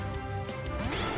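A sharp crack and clattering break as a Poké Ball bursts open in Pokémon Let's Go Eevee, a brief loud smash followed by a short game jingle.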